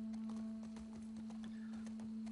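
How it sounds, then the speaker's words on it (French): Steady horse hooves clip-clop in a quick, even rhythm over a constant droning hum in the video game The Last of Us Part II, with no one speaking. "on connaît les petites balades à cheval avec Tommy"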